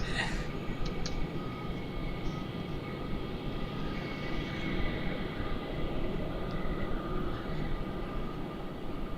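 An airplane departs Melbourne Airport, a broad continuous roar of engines heard from a distance, steady and fairly faint, with no clear talk over it.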